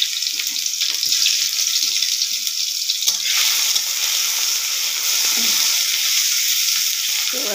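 Crushed garlic dropped into hot mustard oil for a raw mango pickle, giving a loud, steady, hissing sizzle up close that swells and fades slightly, with no talking.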